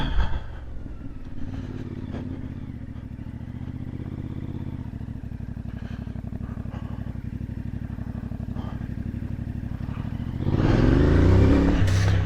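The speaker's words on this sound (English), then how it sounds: "Beautiful sounding engine, this." A CFMOTO 450MT motorcycle engine idles with a steady, throbbing putter for several seconds, then revs up sharply into a louder roar near the end.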